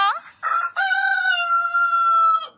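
A rooster crows once, loud and close, a long drawn-out cock-a-doodle-doo with a clucky start.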